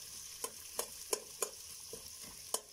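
Onion frying in a pan with sausage and chipotle: a steady sizzle runs throughout, broken by about seven sharp spoon-against-pan clicks at a regular pace as it is stirred.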